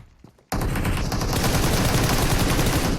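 Rapid automatic gunfire in PUBG Mobile bursts in suddenly after a brief quiet moment, then rattles on loud and continuous as a dense, close fusillade.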